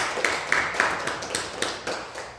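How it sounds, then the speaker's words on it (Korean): A church congregation applauds in a steady, rhythmic pattern of hand claps, moderately close and fairly even, with a diffuse roomy background and no speech over it. "우리 박수로 감사하고"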